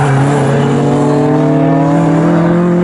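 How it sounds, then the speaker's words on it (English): Nissan Skyline and Holden Monaro saloon race cars at Snetterton during a Thunder Saloons race: a loud, sustained engine howl close by, pitch climbing steadily as the cars accelerate, with no voices. "It's Nissan Skyline versus Holden Monaro at the front of the field."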